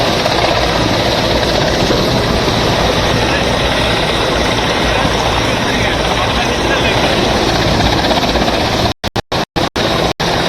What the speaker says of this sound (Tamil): மெரினா கடற்கரைக்கு மேல் சாகசம் செய்த விமானப்படை விமானங்கள் மற்றும் ஹெலிகாப்டர்கள்.